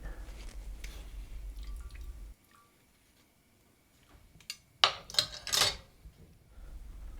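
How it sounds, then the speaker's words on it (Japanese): A small ladle presses cooked lamb meat in a metal sieve to squeeze out the juices, giving soft wet squishes and light metallic scrapes, with a few louder squelching presses near the end in a quiet kitchen. "ルーシュ小さいお玉を使って肉をよく押して液体を絞り出してください"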